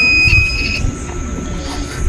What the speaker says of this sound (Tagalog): Sa buzzer muna tayo, diode mode.